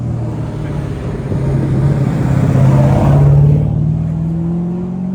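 A yellow BT1 VL Turbo car drives past, its engine note swelling to a loud peak midway and then easing off as it moves away, with no talk over it.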